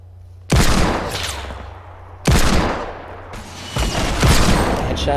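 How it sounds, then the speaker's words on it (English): Gunfire in the video game Fortnite, including a hand cannon: three loud, close bursts of shots, each starting sharply and trailing into rattling echo, with a short quieter gap between the first and second bursts. "Headshot there with the hand cannon"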